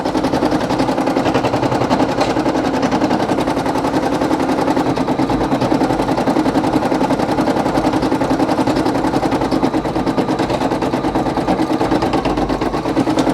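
Brother PE800 embroidery machine stitching out a satin stitch design, a fast, steady, continuous rattling needle pattern close up and fairly loud throughout, with no talking.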